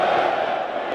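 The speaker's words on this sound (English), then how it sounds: "crowd now getting behind Archer" Cricket crowd roaring in support of England fast bowler Jofra Archer as he runs in to bowl, a dense, loud, sustained wash of cheering voices filling the whole moment.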